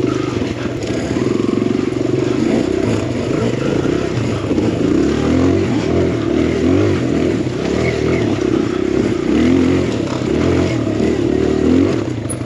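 A KTM XCW enduro motorcycle engine drones loudly and steadily close by while riding a rough trail, with a continuous rumbling hum and faint clatter throughout.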